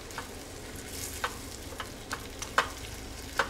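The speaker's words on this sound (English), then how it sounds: "lightly break the eggs up but making sure we're keeping them in big ribbons" Eggs being lightly broken up into big ribbons in a hot pan, soft stirring scrapes and faint sizzling with a few sharper clicks of a utensil against the pan, close and without speech.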